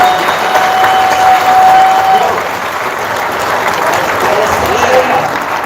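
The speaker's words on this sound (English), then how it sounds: "So a round of applause for all of y'all." Sustained applause from a large audience fills a hotel ballroom during an awards banquet, steady and dense throughout with a faint cheer or two mixed in.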